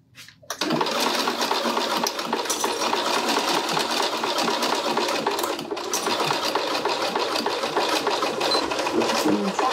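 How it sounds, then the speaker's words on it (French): Sewing machine stitching along piping on a fabric pouch, a fast steady mechanical whir running continuously and close after a brief start, with a short pause midway. "je couds le long de mon passepoil"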